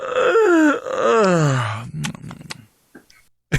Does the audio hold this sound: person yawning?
yes